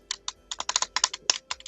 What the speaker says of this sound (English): Here's some clicking over there